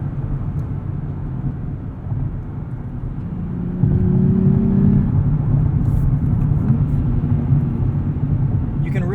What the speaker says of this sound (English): A little bit of a soft rev limiter there.